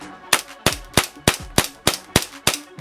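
A JAG Arms GMX/GM4 gas blowback airsoft pistol fires eight sharp, snappy shots in a steady rhythm at close range, each crack followed by a short metallic slide clack, with no talking.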